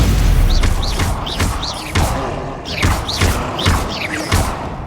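Repeated Confringo fire-spell blasts from the Hogwarts Legacy video game, a string of punchy booming thuds with whooshing tails, about eight hits in quick succession, loud and close with no talk.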